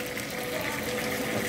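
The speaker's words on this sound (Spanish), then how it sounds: "Tengo un poquitito más de agua, quiero que me quede un poquito más líquido" Water poured into a fish cake (torta de pescado) mixture, a short steady gushing splash that lasts throughout, fairly loud and close.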